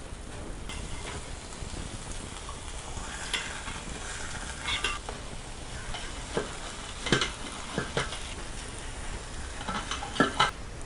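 Spicy egg masala sizzles softly in a pan while the eggs are turned, and scattered scrapes and taps from a spatula ring against the metal over a constant low frying hiss, close but fairly quiet.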